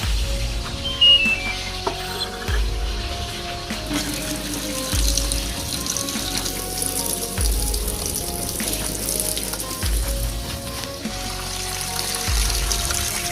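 Water pours into the drum of a washing machine under repair for failing to drain or spin, a continuous splashing rush with a periodic low thump, fairly loud and close, with no voices.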